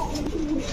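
Pigeons coo softly at a pigeon farm, one short low burbling call close by with faint background murmur.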